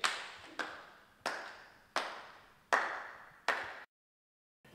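One enthusiastic person claps slowly and deliberately, about six sharp, loud claps, each ringing out with a long echoing decay before the next, then a brief silence and one more clap beginning.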